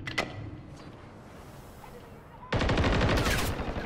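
Call of Duty MW3 gunfire: a single early shot, then a loud rapid automatic burst kicks in and keeps rattling steadily until the end.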